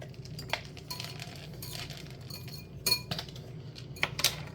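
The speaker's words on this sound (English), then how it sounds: "here's your whisk to mix the eggs" A whisk beats eggs in a bowl, making light, irregular clinks and taps of metal against the dish that recur through the moment at close range, with a few sharper knocks.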